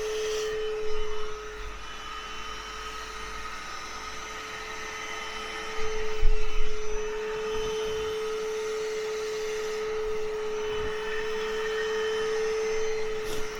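A Bissell Little Green portable spot cleaner runs steadily on fabric, a constant close motor whine with suction hiss that shifts briefly as the nozzle moves, with no talking over it.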